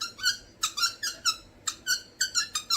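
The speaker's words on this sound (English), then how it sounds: "I got another squeaker." Squeaky toy squeezed in quick bursts, about a dozen bright, close squeaks in an uneven rhythm with nothing else heard.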